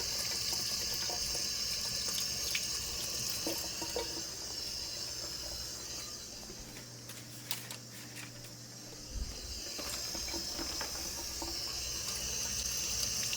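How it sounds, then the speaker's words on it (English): Tap water runs steadily over a piece of salmon being rinsed in a kitchen sink, a continuous splashing hiss that briefly thins and dips partway through before returning at full flow. "we're gonna get a piece of salmon, kind of wash it really good"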